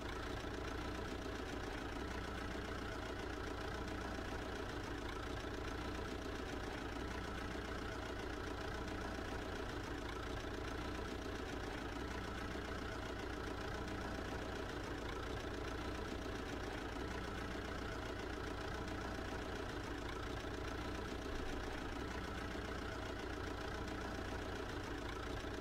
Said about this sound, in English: Okay, I'll get a tractor.